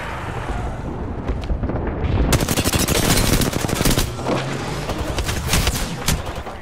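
Heavy automatic gunfire in an Apex Legends match, rapid dense bursts of shots firing almost continuously, loud and close, with a brief lull before the barrage intensifies.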